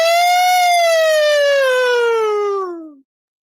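A single loud ambulance siren wail with a falling pitch, close by, sliding down steadily for about three seconds before cutting off.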